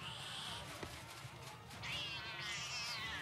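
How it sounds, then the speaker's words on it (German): Cats meowing in the South Park The Stick of Truth video game, a few drawn-out mewing calls over a dense, steady game soundscape, moderately loud throughout. "Nazi Katzen."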